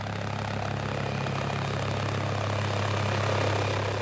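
A doctor helicopter arrives at a hospital with a steady, loud rotor and engine roar filling the whole stretch without a break.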